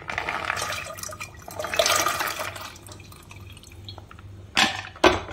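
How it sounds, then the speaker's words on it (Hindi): Washed kidney beans are poured into water in a cooking pot, making a continuous watery sloshing and splashing with a louder surge midway. Two sharp splashes follow near the end. "अब इसमें जो हमने धोकर राजमा रखे हुए हैं वो डाल देंगे"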